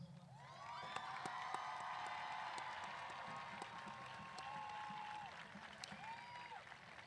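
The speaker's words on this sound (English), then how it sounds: "can we have all senior scholarship award winners please stand for a round of applause?" A high school commencement audience applauds senior scholarship award winners as they stand, a steady, moderately distant wash of clapping with scattered cheers and whoops over faint background music.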